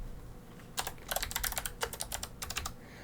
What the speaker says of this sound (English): gotta move some of my stuff now so I can type